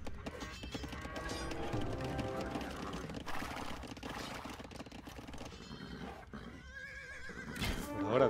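Horses in the real-time strategy game Age of Empires 2 whinny and neigh amid clattering hooves and battle noise, several calls layered loudly over a busy mix with a commentator talking underneath.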